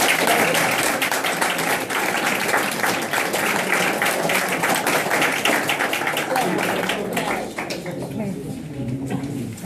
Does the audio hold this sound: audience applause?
yes